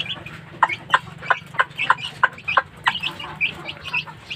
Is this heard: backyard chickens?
yes